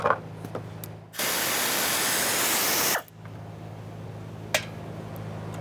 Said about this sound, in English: So I'm using my air tool.